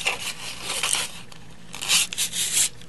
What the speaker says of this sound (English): use some fine grit sandpaper and sand off that black